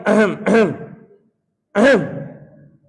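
Three voiced throat-clearing sounds by a person during prayer, two in quick succession and then one more after a pause, close and fairly loud.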